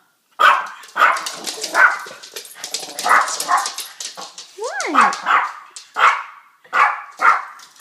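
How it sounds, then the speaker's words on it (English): Dogs bark repeatedly in sharp bursts, close by, with a whining yip partway through; a person talks briefly between barks. "Apparently I'm not showing my puppy dogs enough love because I'm getting barked at."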